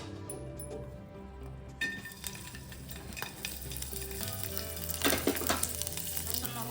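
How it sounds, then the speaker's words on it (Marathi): Garlic sizzling and frying in hot oil in a pan for curry leaf chutney, with a steady crackling hiss, occasional stirring and light metallic clinks, no talking. "तेल टाकते लसूण भाजण्यासाठी"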